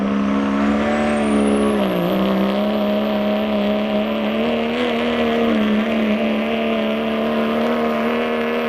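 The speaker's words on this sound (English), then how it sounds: "No name on this truck, but it's a 2000 Dodge." A 2000 Dodge truck at a truck pull, its engine holding a loud, steady, continuous roar with a rising whine, close and unbroken for the whole stretch, with no talk over it.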